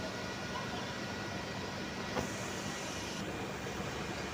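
Steady, dense platform ambience at Sealdah railway station in Kolkata, a busy station with a train standing, forms a continuous crowd and mechanical roar at moderate level with no single standout event.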